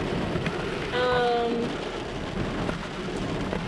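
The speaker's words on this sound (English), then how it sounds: "Well, unfortunately, it is really starting to rain." Steady rain pours down in the mountains of Waterton Lakes National Park under a severe thunderstorm watch, a dense, even hiss throughout with a brief tonal whine partway through.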